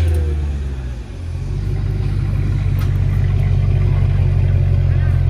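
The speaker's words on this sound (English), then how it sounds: "Oh boy, these 113 engines sound awesome." A Mercedes-Benz C55 AMG with its M113 V8 idles and rumbles steadily nearby, a deep low throb that dips briefly before settling, at a busy car wash.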